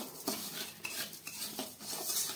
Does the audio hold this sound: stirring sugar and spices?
yes